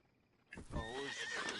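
A single horse in Red Dead Redemption 2 whinnies loudly after a moment of quiet, a rising, wavering neigh that trails off.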